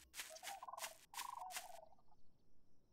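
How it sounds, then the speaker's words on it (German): A duck in the video game Night of the Dead gives a quick series of gobbling, quacking calls in three or four bursts, close and clear with no talk, then a faint high tone lingers. "wenn jetzt die Ente hier vor meinem Fuß rumeiert"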